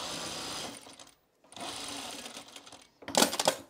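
A sewing machine stitching a Sylvan jacket runs in steady whirring bursts, stopping briefly between runs and finishing with a louder, faster burst, close and clear with no talking.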